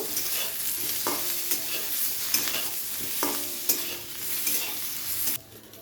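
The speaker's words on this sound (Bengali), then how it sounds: "আবারও একটু তেল অ্যাড করে দিয়ে বেগুনটাকে ভালো করে ভেজে নিব।" Eggplant frying in hot oil in a pan for a winter-vegetable prawn curry, a steady close sizzle with stirring scrapes at intervals, then a sudden drop to quiet near the end.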